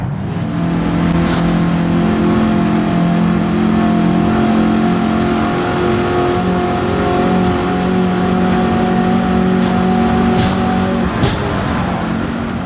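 A Ford Mustang Boss 429 with a 7.2-litre V8 drones steadily at high revs while racing in Gran Turismo 7, a loud, continuous engine note with slight pitch shifts and no talking.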